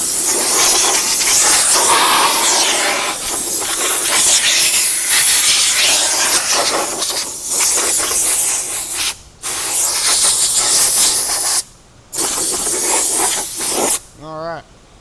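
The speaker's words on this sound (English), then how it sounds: "I'm just going to take my air tool here and just slightly douse it off to get all the crumbs out of it." Compressed air from an air tool blasts crumbs out of a disassembled 2024 GMC Denali headlight, a loud steady hiss broken by a few short pauses, with a brief voice at the end.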